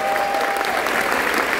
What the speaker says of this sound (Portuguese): Uma salva de palmas pra equipe